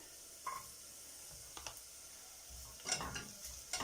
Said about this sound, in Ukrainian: Часник злегку обсмажую, щоб пішов приємний запах.